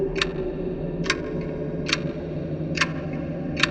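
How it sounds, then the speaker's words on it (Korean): A clock's second hand ticks in a quiet room, five sharp, evenly spaced ticks about a second apart over a low background hum. "시계 초침 소리가 계속 들리는데"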